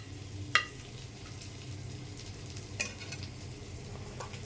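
Chopped onion frying gently in a tablespoon of oil, a faint steady sizzle with two sharp utensil clinks against the pan.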